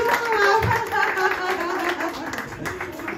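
A crowd claps at an anniversary celebration at the Kafkerin in Brest, a soft, continuous patter of hands running under a speaking voice and lively chatter throughout.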